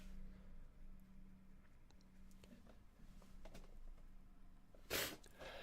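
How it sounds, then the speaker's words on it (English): A single sharp sneeze bursts out near the end, loud and brief against a quiet indoor background with faint tonal hum. "I think I'm going to sneeze again."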